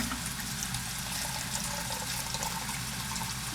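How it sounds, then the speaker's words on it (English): Tap water runs steadily into a sink for washing up photographic darkroom gear, a broad even hiss of flowing water heard close and alone. "I'm gonna turn some water on just to start washing things."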